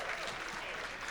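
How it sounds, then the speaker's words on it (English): An audience at a Marysville Tulalip community meeting applauds, a brief, steady patter of many hands clapping, somewhat distant and soft. "Let's give Todd another round of applause."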